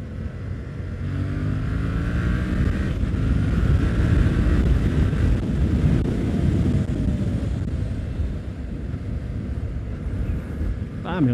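A Yamaha MT-07 motorcycle on a test ride gives a close, steady engine drone with rising and falling harmonics as it revs, wrapped in heavy wind roar, and someone talks over it.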